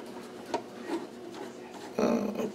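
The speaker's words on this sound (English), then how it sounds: "now I should be able to just start undoing some of these screws on the side here" Screws are undone on the side of an HP 431C power meter: short, soft scraping and rubbing turns, with a slightly louder grinding burst near the end. It is close and fairly quiet.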